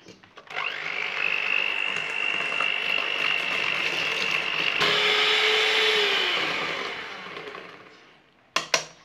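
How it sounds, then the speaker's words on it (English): An electric mixer creams butter and sugar for a chocolate sponge, a steady loud whirring drone running for about eight seconds with a pitch shift midway, then cutting off into a few short clatters. "so we'll just give it another little whiz."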